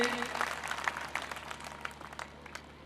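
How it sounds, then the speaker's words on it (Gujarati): Audience applause at a large dayro, a Gujarati devotional folk gathering: dense, steady clapping from a big crowd, fairly near and sustained for the whole stretch with no talk over it. "જોરદાર તાળીના ગડગડાટથી આપણે એમને પણ વધાવી લઈ."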